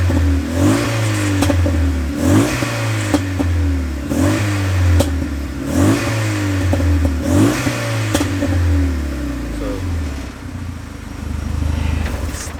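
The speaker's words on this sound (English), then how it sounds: "when you rev it, you will get pops" A Renault Megane engine in sports mode revs repeatedly near 3,500 RPM, with loud rising and falling sweeps in a steady rhythm of about five or six blips, each followed by crackles and pops from the exhaust.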